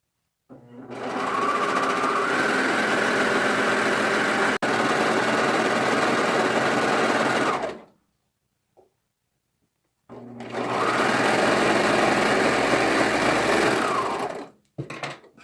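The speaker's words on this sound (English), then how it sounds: "I'm going to actually start on this side seam and sew all 3 layers all" Home sewing machine stitching through three layers of leggings fabric along a side seam, a fast, loud whirring run of about seven seconds, a pause, then another run that stops abruptly, followed by a few light clicks.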